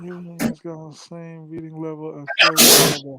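A loud, explosive sneeze from a man bursts out near the end, right after casual conversation between men; the sneeze follows a sharp inhale and stands out clearly over the talk.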